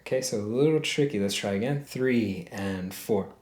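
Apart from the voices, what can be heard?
No everyday noise stands out behind the speech.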